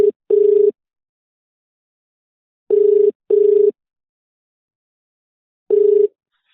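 An unanswered telephone call gives a ringback tone of steady double-pulse rings repeating with long silent gaps, clear and close, with no talking.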